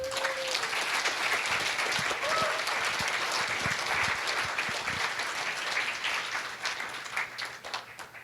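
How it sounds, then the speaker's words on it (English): Audience applause at a benefit event as couples walk up to the stage, sustained steady clapping from a large room throughout, with faint voices underneath and a slight tapering toward the end. "You can applaud them as they come."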